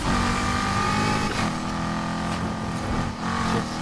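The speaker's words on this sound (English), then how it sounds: "Just hearing this engine" A Gen 3 or Gen 4 V8 car engine idles loud and close, a steady throbbing rumble with slight rises in revs.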